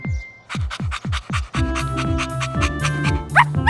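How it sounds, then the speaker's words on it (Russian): Cartoon puppy calling out in a series of short, loud, repeated yips and barks in quick rhythm, close up, with faint background music tones. "Щенок зовет своих друзей."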